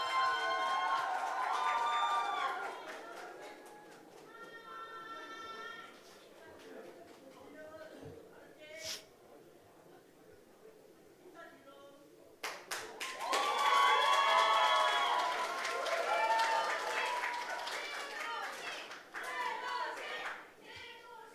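An audience at a Democratic Party joint campaign rally for the Jeongeup mayoral nomination claps and cheers to welcome a candidate, a loud burst of applause rising after an announcer speaks, mixed with crowd voices.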